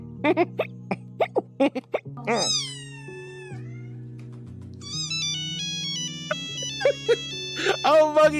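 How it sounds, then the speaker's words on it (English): A melodic electronic phone ringtone plays nearby in VRChat, stepping through synth tones mixed with meow-like chirps, loud and clear, with a few short voice sounds at the end. "that's actually a really cute ringtone"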